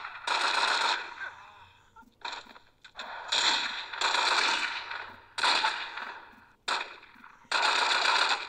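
Gunfire from The Godfather: Mob Wars video game, with loud repeated bursts of rapid shots separated by short pauses, close and harsh.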